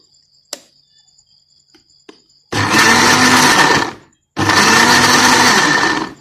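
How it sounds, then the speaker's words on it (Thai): An electric blender whirs loudly through squid dipping sauce with lime juice in two sustained runs separated by a short pause, after a few small clicks of the lid. "เสร็จแล้วก็เดี๋ยวปิดฝานะคะกันมันกระชอกแล้วก็ลงมือปั่นกันเลยนะคะ"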